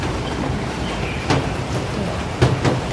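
Steady rain falls outside during a typhoon in Taiwan, a continuous broadband hiss with a few sharper louder splashes or gusts near the end, moderately close and with no voices.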